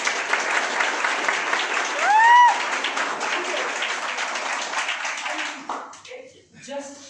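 An audience at a direct-selling industry speech claps steadily in a hall, with a brief whistle-like tone partway through; the applause fades near the end as talking resumes.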